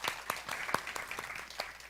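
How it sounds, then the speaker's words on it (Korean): A church youth congregation breaks into applause, a dense patter of many hands with several sharper claps standing out, fairly quiet and steady throughout. "수고한 형수들 격려하는 마음으로 박수 한번 쳐줬으면 좋겠습니다"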